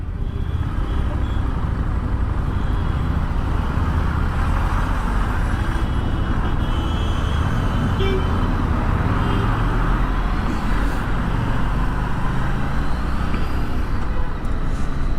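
Busy morning road traffic in Chennai, with cars, trucks and buses rumbling steadily close by in a continuous dense wash of engine and road noise, with no horn blasts standing out clearly.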